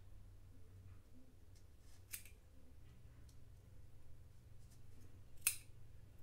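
Scissors snip through crochet yarn while a pompom for an amigurumi snowman napkin holder is trimmed: a few quiet, scattered cuts and small clicks over a soft background hum, ending in one sharper snip.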